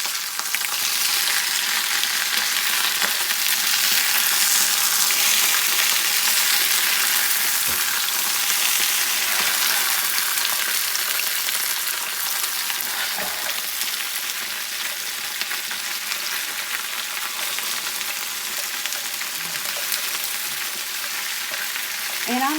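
Potatoes for a cheesy fried potato bake fry in a pan with a steady, dense sizzle and crackle that holds for the whole stretch, loud and close, with a few faint knocks and no talking.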